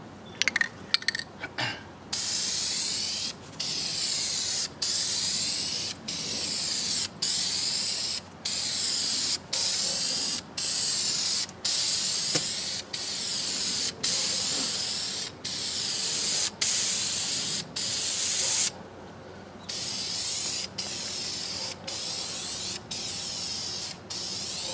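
Aerosol spray paint hissing steadily as a colour coat goes on over primer, in long continuous bursts broken by short regular pauses, close and loud throughout.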